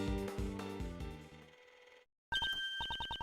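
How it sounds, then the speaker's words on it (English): A cell phone rings in the Ace Attorney Investigations 2 video game, a loud repeating electronic ringtone of rapid pulsed tones that starts after a short silence, following a stretch of layered musical chimes. "It's right that Judge Courtney's cell phone is ringing."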